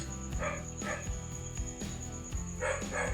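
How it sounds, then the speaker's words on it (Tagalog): Several dogs bark repeatedly from some distance at night in the Philippines, overlapping yaps and woofs over a steady background hum. "Hindi na tumigil ang mga aso."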